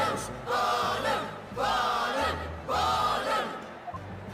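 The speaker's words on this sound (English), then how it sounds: "The crowd doesn't seem very interested in law, that's for sure." An excited courtroom crowd from the Professor Layton vs Phoenix Wright video game cheers and shouts in three loud bursts, each about a second long, with brief pauses between them.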